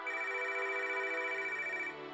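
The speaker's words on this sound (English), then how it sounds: "all of a sudden the phone rang." A home telephone rings in one steady, sustained electronic tone that runs for about two seconds before cutting off. The ring carries several high harmonic lines and no voices are heard.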